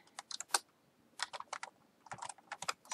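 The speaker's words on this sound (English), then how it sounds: "I'm going to type in EST for established and their wedding date" Keys on a computer keyboard clatter as someone types a short piece of text. The taps come in quick bursts with brief pauses between them, close up and fairly quiet, with no talking.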